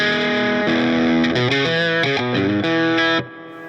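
An electric guitar played through an effects pedal with its accent knob turned all the way up gives a bright, distorted, sustained tone over a short run of changing notes, loud and close, ending abruptly.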